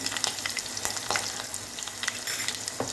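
Green chilies fry in hot tempering oil with mustard seeds for dhokla, giving a steady close crackling sizzle with sharp pops and no talk.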